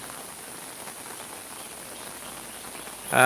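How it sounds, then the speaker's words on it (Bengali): Gentle rain in a countryside village gives a quiet, even patter with no voices, swelling into a louder rush right at the end. "রিমিঝিমি বৃষ্টি।"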